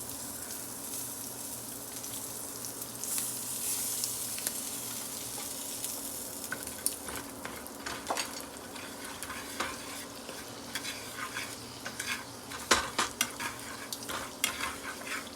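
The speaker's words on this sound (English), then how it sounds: "you want to cook your flour a little bit before you start making it into gravy" Flour cooking in a frying pan for sausage gravy, a continuous soft sizzle with scraping stirs that grow busier and clink against the pan toward the end, no talking.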